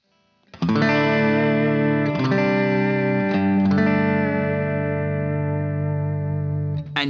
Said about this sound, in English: And you get that in-between telly sound.